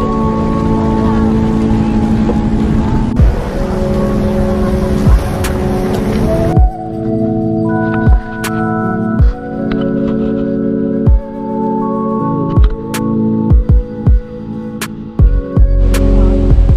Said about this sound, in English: After a 45-minute ferry ride